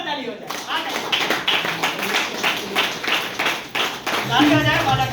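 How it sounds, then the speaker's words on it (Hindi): At a welcome event for a team in Irba, Ranchi, a crowd breaks into steady, rhythmic clapping that is moderately loud, with a voice speaking over it near the end. "जोरदार ताली हो जाए"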